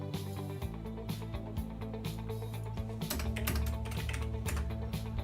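Quick clicks of typing on a computer keyboard, several keystrokes scattered through the stretch, sitting under steady tonal background music during a Transport Fever 2 game session.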